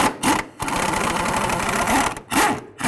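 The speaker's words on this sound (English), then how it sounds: "Using a 16mm, take out these two top bolts." A power tool whirs steadily for nearly two seconds between short pauses as a 16mm socket backs out the top rear shock bolts on a 2006-10 Dodge Charger, loud and close.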